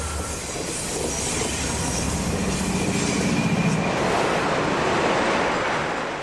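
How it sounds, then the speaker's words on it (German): A powerful Blue Tiger diesel locomotive hauls a heavy limestone train on a mountain line, a steady loud roar of engine and rolling wagons with squealing wheels and faint clickety-clack, heard alone. "Für die leistungsstarken Blue Tiger sind die schweren Kalksteinzüge kein Problem."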